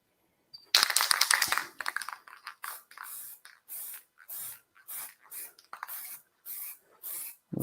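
Ebonizing lacquer sprayed onto a flat wooden piece: a long close hiss opens, then a steady series of short even spray bursts follows with brief pauses between them.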